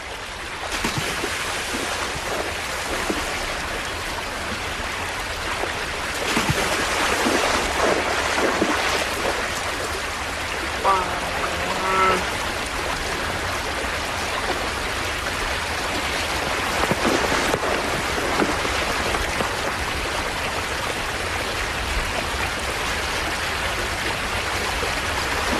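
River water rushes steadily in a broad, continuous wash, loud and close, with no voices.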